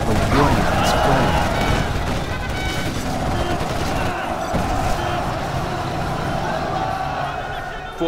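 Quad cannon fire in the real-time strategy game Generals Zero Hour: rapid bursts of gunfire and blasts layered over rumbling battle noise and vehicle sounds, continuous and dense throughout.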